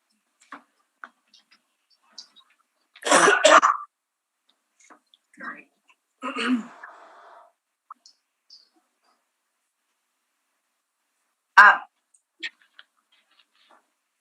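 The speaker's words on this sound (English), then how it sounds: "I'm just having a problem with coughing." During a quiet Board of Revision hearing, a person lets out a few short, scattered coughs and throat clearings. The bursts are separated by long gaps of near silence and faint ticks.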